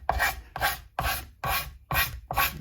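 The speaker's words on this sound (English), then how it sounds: "this little moment of cabinet scraping" A cabinet scraper draws across the wooden body of an ultra-wide six-string guitar during carving, making six rhythmic, evenly spaced rasping strokes, close and clear with no voices.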